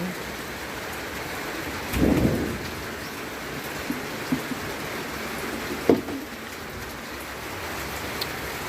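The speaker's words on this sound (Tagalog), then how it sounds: "Di ba umuulan na sa amin?" Steady rain pours down in a constant hiss, with a low rumble of thunder and a few louder drops or knocks.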